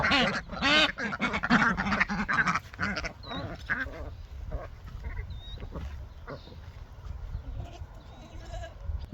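Several ducks on a homestead quack in a busy, overlapping chorus close by, loud at first and then thinning to scattered quacks amid farmyard background noise.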